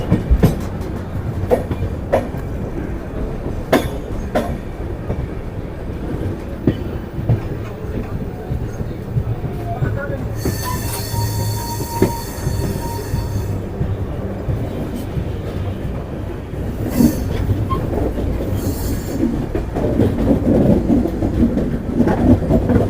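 Subedarganj–Dehradun Link Express running on tracks, a steady low rumble with frequent clicks and clacks from the rails, growing louder toward the end, with occasional distant voices in the background.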